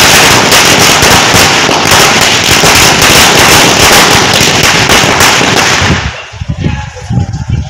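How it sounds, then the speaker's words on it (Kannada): Firecrackers burst in a dense, rapid string at an outdoor celebration of a cooperative society election win, the loud crackling running nonstop for about six seconds before cutting out to scattered lower noise. "ಪಟಾಕಿ ಸಿಡಿಸಿ ಸಂಭ್ರಮಿಸಿದರು."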